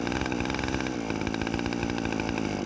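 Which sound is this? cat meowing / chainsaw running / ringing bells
chainsaw running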